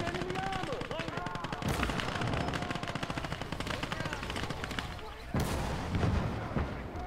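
Tank cannon and machine-gun fire in Gates of Hell: Ostfront, a dense, continuous battle din of rapid bursts with two sharp, loud gun blasts standing out partway through.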